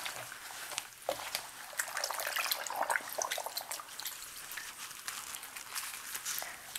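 A white shirt being fully submerged and moved through a water dye bath for a green ombre dip dye, giving soft, close sloshing and trickling water with no talk.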